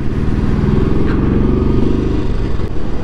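A motorcycle engine hums loudly and close up while the bike is ridden through Leh, a steady low rumble with a slight clatter that runs through the whole clip.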